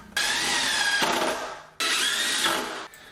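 A power drill drives 2.5-inch cabinet screws into wooden boards for a mudroom bench: two close whirring bursts, each about a second long, its pitch shifting as the screw seats.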